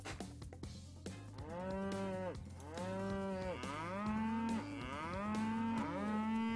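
Cows mooing in the farming video game Farming World, several long, deep, drawn-out moos following one another, clear and close with no talk.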